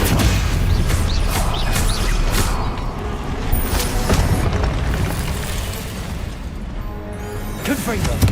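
Confringo blasting-spell explosions in the video game Hogwarts Legacy, repeated booming bursts and crashes over a constant loud low rumble, with a voice calling out over the combat.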